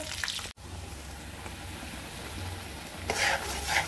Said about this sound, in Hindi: यहाँ पर मैंने सब्जी में बघार लगा दिया है।